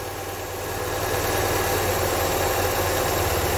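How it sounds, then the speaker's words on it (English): A classic car engine idles at slightly raised revs with the choke fully open, giving a steady, close, low rumbling throb that holds evenly throughout. "Now that's idling a bit more faster now"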